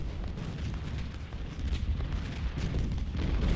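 An artillery volley fires in the Civil War strategy game Ultimate General: Civil War, a dense, continuous rumble of booms that swells louder toward the end and has no talk over it.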